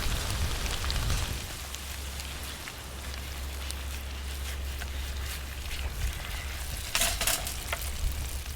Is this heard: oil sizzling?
yes